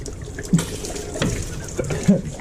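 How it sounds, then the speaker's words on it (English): Liquid from a Corsa C engine drip tray spills onto a floor, giving short wet splashes near the start and end over a steady background noise. "Spilt the whole bloody drip tray on the floor."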